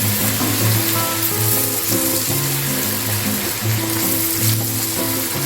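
Ginger garlic paste fries in a pot for beef yakhni pulao, a loud continuous sizzle close up, with low hum underneath and no voices.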